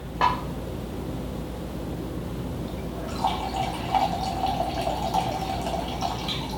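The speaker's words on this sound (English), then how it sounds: "You can hear the air bubbles being sucked in through, there's 3 holes on the back." Wine pours through an aerator pourer with three air holes, a quiet drip at first, then a steady trickling stream with faint gurgling bubbles drawn in, close up and without speech.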